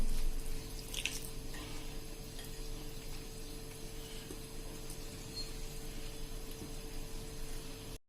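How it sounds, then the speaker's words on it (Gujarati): Water runs into chocolate cake batter in a bowl while it is stirred, making a continuous wet, churning wash with soft clicking, fairly close. It stays steady throughout and no voices are heard. "હવે આપણે આમાં પાણી નાખીને આપણું કેકનું બેટર બરાબર તૈયાર કરી લેશું"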